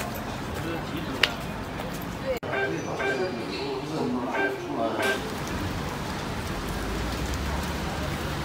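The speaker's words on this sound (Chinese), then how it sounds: "哎呀， 雨下大了" Rain falling steadily outdoors, a continuous hiss that grows denser after the first few seconds, with brief knocks and clatter nearby and voices now and then in the background.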